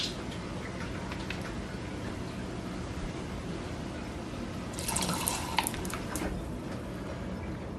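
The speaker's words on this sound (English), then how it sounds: "1 squirt of lemon juice" A squirt of lemon juice dripping into an evening cocktail, a brief wet liquid splash of trickling drops heard close up over a steady background hiss, with no talking.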